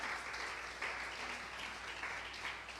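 A church congregation claps steadily in sustained applause during a worship service, faint and somewhat distant, with no talking over it.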